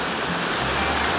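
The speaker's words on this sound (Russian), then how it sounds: "Здесь у нас по дороге еще один водопадик," Rushing water from a small three-tiered waterfall on the Putorana Plateau, a dense steady roar close by with no voices.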